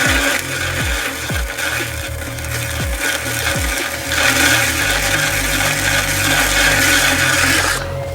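A large foot-trimming tool scraping a clay yarn bowl spinning on a pottery wheel, a steady, fairly loud rasping scrape over the wheel's hum, with no talking.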